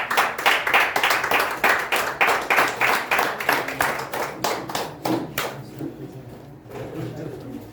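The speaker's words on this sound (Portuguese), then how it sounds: "Você pode dar uma salva de palmas para Jesus." A Pentecostal church congregation claps in unison in a loud, steady rhythm of about two claps per second. The clapping fades and thins out after about five seconds, leaving scattered claps and room noise.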